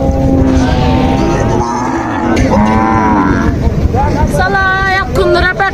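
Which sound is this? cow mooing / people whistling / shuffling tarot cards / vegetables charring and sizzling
cow mooing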